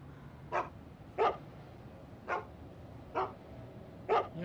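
Dogs in the stealth video game Mark of the Ninja bark five times at irregular intervals, each a short, moderately distant bark over a low, quiet ambient background.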